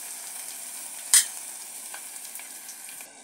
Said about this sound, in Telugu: ఒక గుప్పెడంతా పుదీనా, ఎల్లిపాయలు కూడా నూనెలో వేయించుకోవాలి